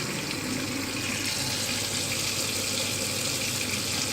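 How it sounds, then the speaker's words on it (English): Water runs steadily from a tap, a constant broadband hiss and splash that stays even and moderately loud throughout, with no talking. "So I'll just run that water and watch it."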